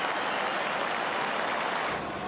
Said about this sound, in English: And the crowd are thrilled.